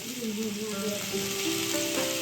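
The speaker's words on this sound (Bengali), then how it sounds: "ফোড়ন দিয়ে আলু ভাজছো?" Potatoes fry in a pan with tempering spices for a festival offering, a steady close sizzle running throughout with faint talk nearby.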